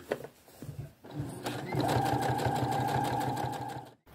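A sewing machine understitches the facing of a wrap skirt, starting with a few short halting bursts before settling into a steady, fast mechanical rattle that stops abruptly at the end.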